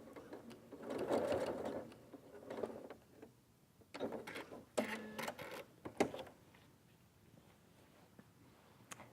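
Close, quiet bursts from a sewing machine joining a square of elastic, several short whirring runs with pauses and clicks between them, sitting over a low room hum; no talking.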